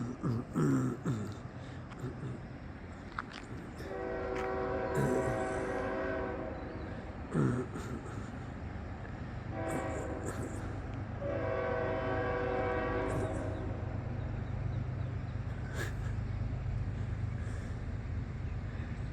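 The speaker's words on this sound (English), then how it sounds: "He's going crazy with the horns." A passing train sounds its horn again and again in long, loud blasts separated by short gaps, over a continuous rumble of rail cars rolling by.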